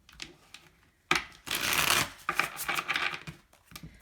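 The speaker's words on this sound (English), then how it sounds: "One more shuffle, please, and thank you." A Light Seers Tarot deck is shuffled by hand in close, crisp bursts of riffling card noise, with a brief pause before a long, dense flurry and then lighter, choppier shuffles.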